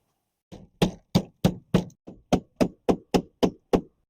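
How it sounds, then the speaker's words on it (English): Nails are driven into a vinyl siding starter strip with a hammer, eleven sharp, evenly spaced blows landing about every third of a second, close and loud, with no voices. "And now just put nails every 16 inch."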